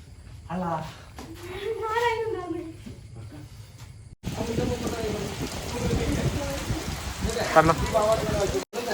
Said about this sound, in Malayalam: ഭയങ്കര മഴയാട്ടോ